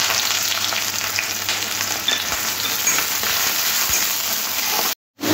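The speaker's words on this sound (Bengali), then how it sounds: "তেজপাতা। একটু ভাজা ভাজা করে নিতে হবে।" Bay leaves, cinnamon and sliced onions frying in hot oil in a pan make a steady, loud, close sizzle that runs unbroken before cutting out abruptly near the end, with no voice over it.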